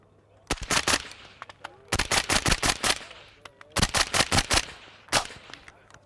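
A suppressed PWS UXR piston rifle fires several rapid strings of muffled shots, loud and close, in bursts separated by short pauses.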